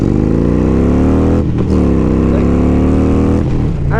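A motorcycle carrying a passenger accelerates hard, its engine revving up loudly through rising notes, with a brief dip at a gear change before pulling again, close and continuous.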